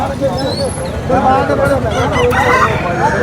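A native rooster crows over a busy market crowd, its call partly buried in steady chatter and market noise.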